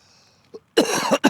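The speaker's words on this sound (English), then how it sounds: "sorry for the cough again." A brief faint throat sound, then a harsh cough up close at night during residential stealth camping, followed by a second short cough cut off at the end.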